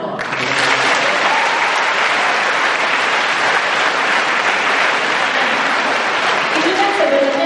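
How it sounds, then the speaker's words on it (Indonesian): Dense, steady applause from a large audience at a leadership talk, loud and continuous for the whole stretch with no break, a few voices mixed into the roar. "Tepuk tangan dong."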